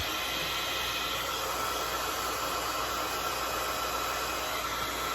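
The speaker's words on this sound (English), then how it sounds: "it's always important to have it heated up for about 30 seconds. Makes it a lot easier to heat emboss." A heat embossing tool warms up for a craft session, giving off a steady, even blowing hiss with no change in level from start to finish and no talking over it.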